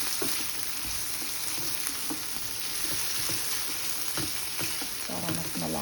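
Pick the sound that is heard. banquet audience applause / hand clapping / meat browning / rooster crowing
meat browning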